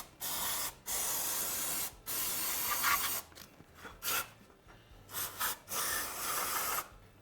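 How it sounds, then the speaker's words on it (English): Contact cleaner hisses from an aerosol can onto a Nikasil-coated motorcycle cylinder to strip off oil, in several strong bursts separated by short pauses, close up and with no talking. "I'm just going to take a little bit of contact cleaner and spray this off"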